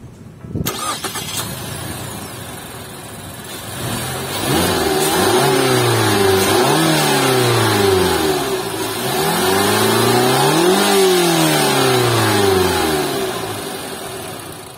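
A 2022 Mazda CX-8 with the 2.5-litre Skyactiv-G engine cranks and catches, settles to a steady idle, then revs up and back down twice in smooth, loud sweeps, close to the listener with no talking.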